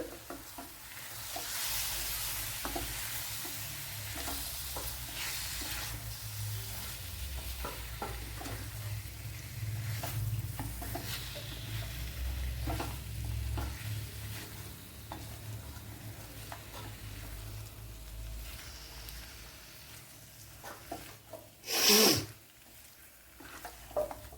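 Masala for a vadukapuli lemon curry with salt is stirred in a frying pan, heard as soft, quiet scraping and faint sizzling with intermittent utensil taps and one louder clatter near the end.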